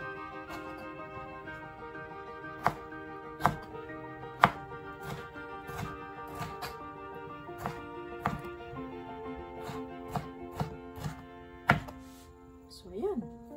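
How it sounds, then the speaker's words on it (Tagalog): A knife chops vegetables into small pieces on a board for a tomato sauce, sharp irregular knocks coming one after another at close range, with a faint voice now and then under the chopping. "kailangan talaga hiwain ng maliliit para madali siyang durog ba."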